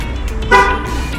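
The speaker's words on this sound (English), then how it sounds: "you will hear your car honking for you." A single short car horn toot in a parking garage, loud and close, sounding once over a low background rumble.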